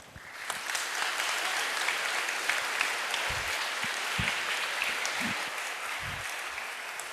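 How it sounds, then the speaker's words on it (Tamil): A school audience gives dense, sustained applause in a hall during a motivational speech in Vellore. The steady clapping fills the whole stretch with a few low thumps beneath it. "இதுக்கு தாயா அதிகமான கைதட்டல் வருது"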